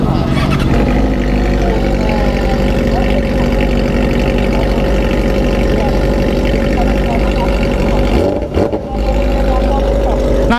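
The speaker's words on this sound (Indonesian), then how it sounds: "Ini Akrapovic Megaphone kenalpotnya." 600cc superbike engine running through an Akrapovic Megaphone free-flow exhaust, a loud continuous rumbling drone held steady for about ten seconds with a brief dip near the end.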